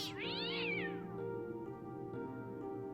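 A cat lets out a loud, drawn-out yowl as it is killed. One rising and falling wail comes in the first second, followed by a strained, sustained cry, with no talking.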